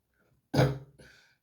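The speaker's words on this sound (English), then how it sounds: "sorry, have a bad cough." A single short, husky cough, closer to a throat-clearing bark, comes from someone who has a bad cough, followed by a fainter trailing rasp, with no speech.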